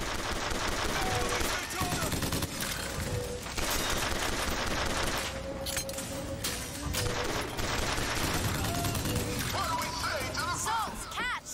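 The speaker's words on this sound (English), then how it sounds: "Who's shooting?" Dense, continuous gunfire fills a Bioshock Infinite firefight: rapid machine-gun bursts and overlapping shots run nearly unbroken at close range, with voices talking underneath.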